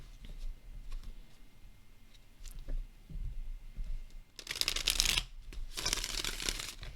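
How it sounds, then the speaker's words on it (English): Soft scattered clicks and taps, then from about midway a dense riffling burst of tarot cards being shuffled, pausing briefly before a second quick shuffle. "let's do a shuffle test,"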